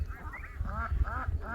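Ducks at a small backyard pond, a run of repeated nasal quacks and honks in quick rhythmic bursts, close and clear against faint low background noise.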